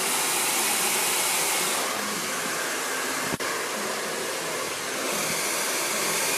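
A hair dryer blows with a steady, loud rushing whoosh, briefly interrupted by a sharp click partway through.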